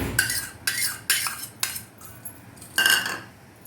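Eggs go into a bowl for a banana cake, heard as a series of sharp clinks and taps against the bowl in quick succession, close and fairly loud with no talk.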